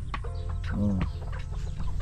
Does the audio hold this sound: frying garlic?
no